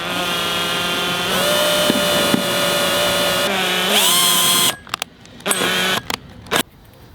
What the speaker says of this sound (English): Drilling holes in the boat.